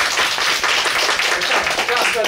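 An audience claps after a lecture on Chinese Buddhist public diplomacy, a modest round of close applause lasting a couple of seconds, with a voice briefly heard among it.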